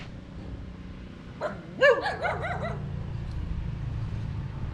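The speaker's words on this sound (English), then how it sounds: "There's lots of wild dogs on this island." A few short barks from a stray dog at a distance on Con Dao island, Vietnam, a brief yelping burst over steady outdoor rumble.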